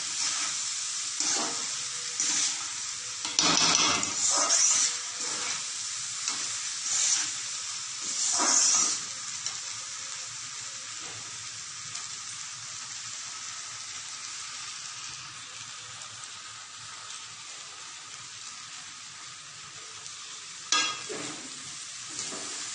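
Rice and lentils are stirred with spices in a pot for khichuri, a steady hissing sizzle broken by repeated scraping strokes of the spoon, loudest early on, then quieter with a final stir.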